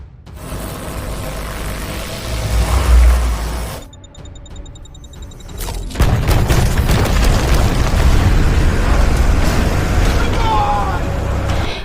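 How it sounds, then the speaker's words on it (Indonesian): A grenade blast in an action film: a loud, close explosion rumbles, cuts to a brief hush, then a second roaring burst of debris and chaos follows, with a narrator speaking over it. "granat yang sebelumnya dipasang oleh Zenny langsung meledak"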